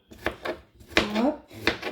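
A knife chops vegetables into strips on a cutting board for tabbouleh, making three close, clear knocks about two-thirds of a second apart, with a voice talking softly between the cuts.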